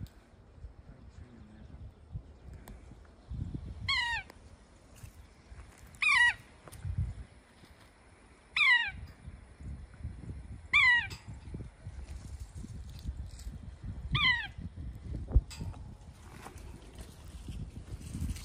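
Several brief, nasal, cat-like mewing calls of a yellow-bellied sapsucker repeat at irregular intervals, clear against a low rumbling background with no speech.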